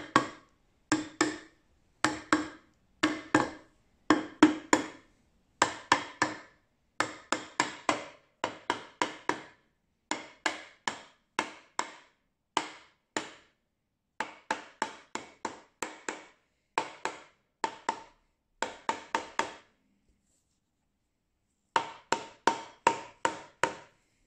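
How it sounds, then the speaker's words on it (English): An axle is gently tapped into place on a Volkswagen Beetle swing axle gearbox: dozens of sharp, close metallic taps in quick bursts separated by short pauses, with no talking. "just give it a gentle tap into place"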